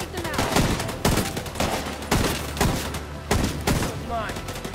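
Heavy exchanges of automatic gunfire in The Division 2, loud repeated volleys of shots arriving in bursts about once a second, close and punchy, with combat shouts mixed in.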